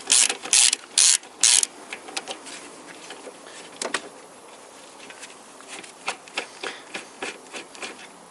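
A 10 mm socket on a ratchet loosens a bolt on a 2000–2007 Toyota Corolla VVT-i: four loud close ratcheting bursts first, then softer scattered clicks and short strokes, no voices.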